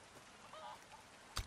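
Chickens cluck faintly in the Resident Evil 4 Remake video game. A couple of short, quiet fowl calls sit against low background sound, followed by a brief sharp knock at the end.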